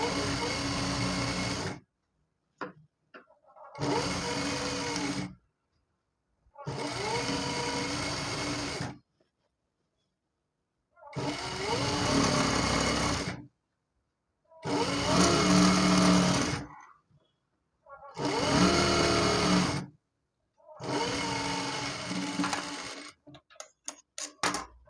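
A sewing machine stitching a gathering pant runs in bursts, about six separate passes of steady mechanical whirring, each a couple of seconds long and broken by short silences. No one speaks.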